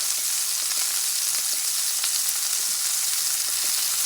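A tuna steak sears in a hot pan, giving a continuous, even hiss of sizzling fat that holds steady throughout with no voices.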